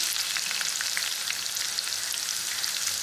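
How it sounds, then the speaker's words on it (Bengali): Chopped coriander stalks frying in hot oil for Schezwan chicken, a steady close sizzle with light crackling spits throughout, no voices. "ধনে পাতা কুচিয়ে রাখা ডাঁটা। সেটা দিয়েও একটু ফ্রাই করে নিচ্ছি।"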